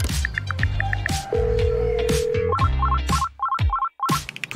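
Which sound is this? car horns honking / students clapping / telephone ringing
telephone ringing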